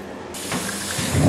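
A shower sprays warm water into a bath, giving a steady close hiss that starts abruptly and continues through, with brief low thumps and rumbles mixed in toward the end.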